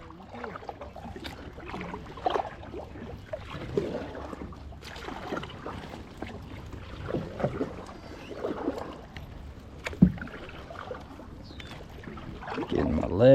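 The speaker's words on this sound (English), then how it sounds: "Got to get a paddle in now." Paddle strokes splash and swirl water as a fishing boat is rowed by hand after its motor ran out of power on the California Delta, a series of soft watery pulls over a low background rumble, with a few brief voices.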